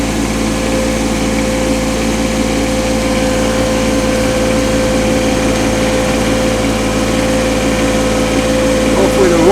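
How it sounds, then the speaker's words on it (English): A tractor engine in low gear drones steadily and loudly at a low, even pace throughout while pulling wood by rope, with a constant tonal hum and no change in speed. "I got it in low gear, so I'm really not going to kill the tractor"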